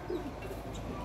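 Pigeons cooing in a bird keeper's collection, soft low coos close by, faint and brief over a dull background.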